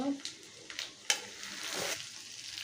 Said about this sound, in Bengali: এখন আদা বাটাটা দিয়ে দেব